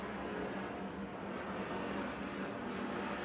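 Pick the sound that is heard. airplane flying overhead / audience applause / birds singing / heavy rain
airplane flying overhead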